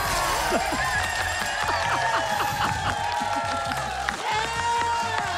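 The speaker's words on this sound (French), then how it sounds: "Vous avez un bel applaudissement pour José." Studio audience on a French game show, La poule aux oeufs d'or, clapping and cheering for a contestant, a loud continuous crowd noise with scattered whoops under lively music.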